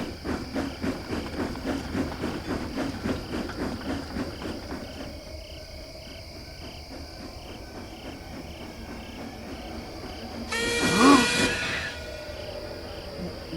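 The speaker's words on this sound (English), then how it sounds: "That wasn't Skarloey's whistle" A steady chirring of insects fades out, then a brief, distant steam locomotive whistle sounds once through the quiet, misty background.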